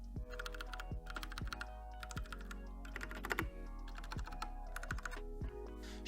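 Brisk typing on a Royal Kludge RK84 80% mechanical keyboard with RK Brown switches, rapid bursts of crisp clacking keystrokes in uneven rhythm, close and alone.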